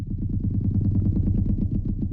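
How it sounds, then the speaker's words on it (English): A rubbed metal spoon processed with effects for monster sound design gives a low, throbbing, distorted drone with rapid regular pulsing and an echoing, rattling texture, steady and fairly loud. "which is just me rubbing that spoon from the video."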